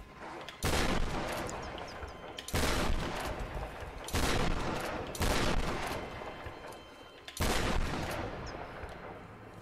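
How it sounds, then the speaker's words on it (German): Shotgun blasts fired at a wolf in the Tomb Raider video game: five loud, booming reports with short tails, spaced about one to two seconds apart, close and heavy, with no talking over them. "So viele Schüsse für einen Wolf braucht, das ist hart."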